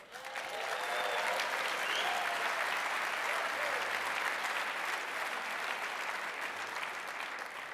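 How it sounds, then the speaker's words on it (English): A room full of people at the 2010 Obie awards presentation bursts into sustained applause that swells quickly and holds steady and dense for several seconds before easing slightly at the end. "only in this room would that line get applause"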